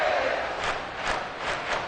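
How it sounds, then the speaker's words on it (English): Stadium crowd at an NFL American football game between the Dolphins and their opponent on a third down, a steady roar with swelling waves of cheering and shouts, loud and continuous throughout. "this crowd making it hard to hear"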